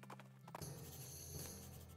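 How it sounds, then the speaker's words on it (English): Horse sounds from the video game West of Loathing, with steady clip-clop hooves and a whinny-like tone over a constant game background, with no talk. "noises that horse makes"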